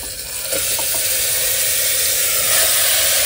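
Mutton frying in oil reused from frying onions, with whole garam masala, a strong steady sizzle and hiss close up, with a few faint clinks of stirring near the start.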